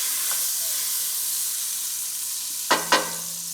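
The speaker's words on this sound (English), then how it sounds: "get your saute pan nice and heated and to add your stick of butter" A stick of butter melts in a heated sauté pan, giving a soft, even hiss, then two quick louder sizzling bursts close together near the end.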